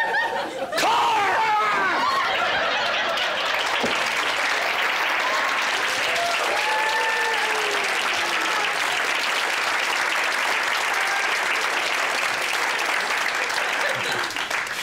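A studio audience claps loudly and steadily in a sustained burst of applause, with scattered chatter and light laughter mixed in.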